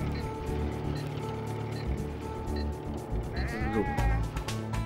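Sheep bleat in the PS1 game Sheep, a wavering bleat rising clearly near the end over a steady layered game soundtrack and engine-like drone.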